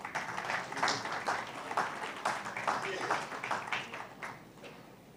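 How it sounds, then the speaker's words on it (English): An audience at a Kerala investment session applauds to welcome a presenter, a moderate wash of clapping with some murmured voices, easing off toward the end. "We welcome him with a round of applause."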